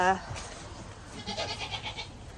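Goats bleat on a farm, a short nasal call opening the clip, then a rapid wavering bleat toward the end, fairly faint and close against a quiet outdoor background.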